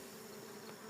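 A dense swarm of honeybees on the comb of a top-bar hive gives off a steady, even, close buzzing hum that runs unbroken throughout, with no voices over it.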